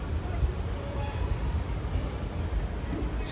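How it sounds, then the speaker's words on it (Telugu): The Narsapur–Amaravati Express slows at a station with a continuous low rumble of rolling wheels and carriages, heard from inside the train at an even, close level. "ట్రైన్ అయితే స్లో చేశారు పానీ స్టేషన్లో"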